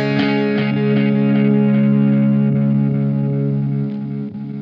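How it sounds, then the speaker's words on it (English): A sustained distorted tone repeats through a tape delay echo, smearing and wavering with slight dropouts from bald spots on fresh tape, then fades near the end. "you can hear where there are bald spots on the tape, even though it's a fresh tape"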